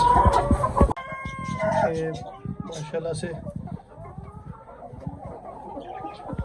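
Ayam Cemani chickens and a Heera rooster on a rooftop in Faisalabad cluck and call nearby, with a crow rising early on, while someone speaks briefly over them.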